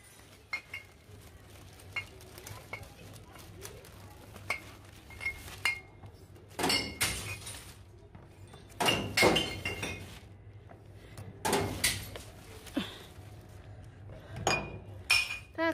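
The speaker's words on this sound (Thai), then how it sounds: "ขวดเขียวก็ใส่ลงไป ถ้าขวดน้ำตาลก็ใส่ข้างล่างเอานะคะ" Green and brown glass bottles drop into a recycling bin outdoors, giving a few separate clinks and clattering knocks spread over the clip against a low steady background hum.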